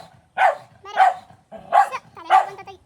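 A brown dog barks four times in a steady rhythm, each bark loud, close and clear, with short quiet gaps between them.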